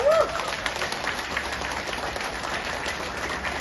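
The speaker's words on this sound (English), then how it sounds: "Let's give a round of applause." Audience applause at a Khasi Jaintia regional party committee meeting during a candidate election, a steady wash of clapping that holds evenly throughout with a brief whistle-like tone near the start.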